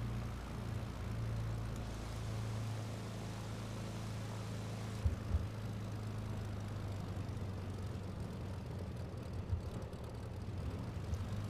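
A Cirrus SR22 propeller plane taxiing in Microsoft Flight Simulator, a low steady engine drone at idle with a couple of faint bumps, heard alone at a quiet level.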